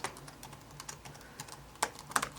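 Fingers tap out an email address on a computer keyboard, a quick irregular run of close, light key clicks with a few sharper strokes near the end.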